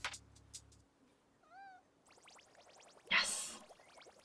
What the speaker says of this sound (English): I think that's a cat.